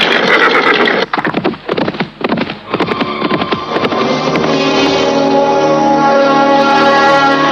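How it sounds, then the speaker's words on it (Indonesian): Loud, busy rush of hoofbeats and noise with horses whinnying, a continuous dense commotion throughout. "maka kuda-kuda itu pun berlari semakin kencang"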